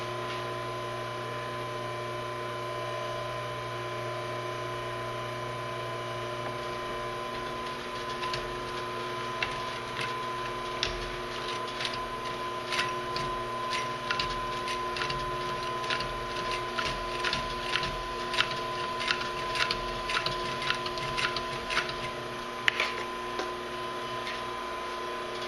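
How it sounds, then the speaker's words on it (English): Leather tote bag without a gusset being stitched by machine, with steady mechanical ticking and clatter that grows into rapid repeated stitching bursts partway through, fairly close and alone with no talk. "Now what I'll do, I will sew"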